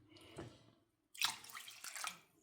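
Water poured into a bowl of rice to soak for vada batter, two short splashing pours separated by a brief pause, close and fairly quiet.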